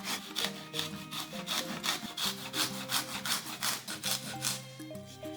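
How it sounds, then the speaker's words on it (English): Peeled fresh ginger scraped against a microplane grater in quick, even back-and-forth strokes, a close, dry rasping rhythm repeating steadily with no voices. "Hold the microplane grater blade side down and scrape it across the peeled end of the"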